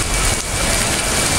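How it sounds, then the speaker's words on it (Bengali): Heavy rain pours down outside in a dense, steady hiss, loud and continuous through the short stretch with no voices. "বাইরে ঝুম বৃষ্টি হচ্ছে, এত জোরে বৃষ্টি হচ্ছে কি বলবো।"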